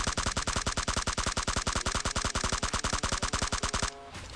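Rapid automatic gunfire from PUBG, a long unbroken burst of evenly spaced loud shots lasting nearly four seconds before cutting off.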